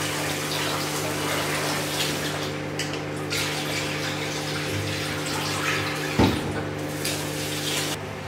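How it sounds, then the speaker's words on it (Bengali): Water runs continuously as rice is rinsed, a steady rushing wash with faint swirling and a brief clunk near the end, close by and with no talk. "আর এবার আমি চালটা ধুয়ে নিচ্ছি।"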